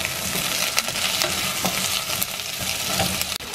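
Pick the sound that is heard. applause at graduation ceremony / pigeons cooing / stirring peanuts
stirring peanuts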